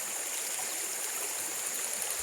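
Steady rushing water flows continuously over a small check dam, a broad even wash of sound with no voices.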